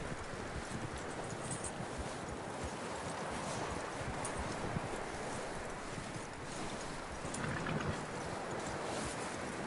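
A horse's hooves clip-clop steadily at a moderate pace in the game Red Dead Redemption, over soft wind and ambient noise, fairly quiet with no talk.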